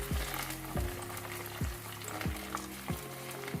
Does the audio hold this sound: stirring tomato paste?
yes